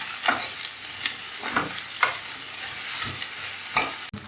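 Okra with tomato and salt sizzles in a frying pan while a utensil stirs it, making a steady crackling fry broken by regular scraping stirs about every half second, close and clear.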